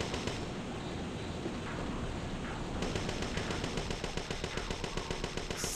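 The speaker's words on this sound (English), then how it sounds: "Just keep shooting at his face." Sustained, dense gunfire from the video game Parasite Eve II, loud and continuous rapid shots packed together with a roaring, explosive texture and no speech on top.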